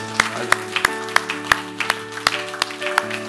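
A congregation at a Sunday church worship service claps in a steady rhythm, about three claps a second, over sustained keyboard chords.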